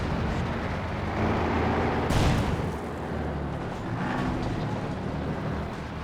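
Battle din from Company of Heroes 2, a World War II strategy game, as a Panzer IV comes under gunfire: dense continuous rumbling fire with a sharper burst near the middle, loud and steady throughout.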